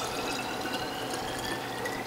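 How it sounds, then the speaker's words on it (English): Juice made from celery, onion and greens poured into bottles, giving a steady, dense rushing and splashing that stays loud and unbroken, with no talk over it. "So let's fill some bottles."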